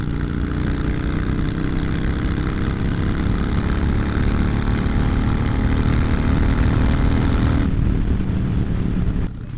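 A Harley Davidson motorcycle fitted with a Screaming Eagle Stage 1 kit idles close by with a steady, deep, throbbing rumble that holds constant, easing slightly near the end.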